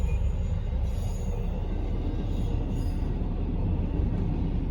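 A long Norfolk Southern freight train rumbles past in a steady, dense roll of wheels and cars, moderately loud and continuous, with faint higher squeals drifting in and out.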